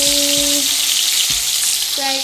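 Fish fries in a pan in a home kitchen, giving a loud, continuous sizzle throughout, with a few brief low knocks and tonal hums in the background.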